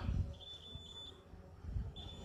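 Two high-pitched beeps from a multimeter's continuity buzzer, a steady tone that holds for under a second, pauses, then sounds again, over low background rumble, while testing a car audio amplifier.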